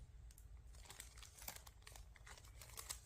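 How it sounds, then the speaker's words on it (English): Plastic foot peel packaging crinkles and rustles up close as it is cut open and the booties are pulled out, a quiet run of irregular crackles and snips with no talking. "Now I will cut the package open and take the booties out"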